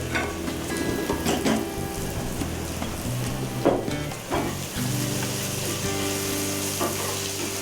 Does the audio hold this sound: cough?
no